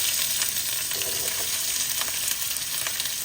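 Onions sizzling in hot oil with curry leaves for egg pulusu, a steady, close, dense hiss with light crackles and faint stirring, no voices.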